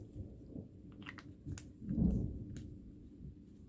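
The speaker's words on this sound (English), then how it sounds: "Oh wow, did you hear that thunder?" Low rumbling thunder rolls on and off, swelling near the middle and then fading, heard indoors during quiet papercraft work.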